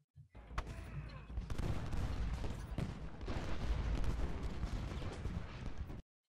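Musket volleys from skirmishers in Ultimate General: Gettysburg: a dense, crackling roll of distant rifle fire with thudding reports, steady and faint throughout, then cutting off abruptly.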